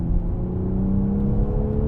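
A 2019 Toyota Supra GR engine revving, a loud close steady drone with a smooth sustained tone.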